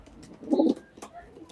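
A Pakistani teddy pigeon gives a single short, low coo up close, rising briefly over quiet room background.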